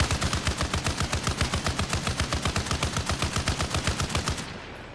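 Machine gun fire from the video game Arma Reforger hammers out as one long sustained burst of rapid, evenly spaced shots, loud and close, cutting off just before the end.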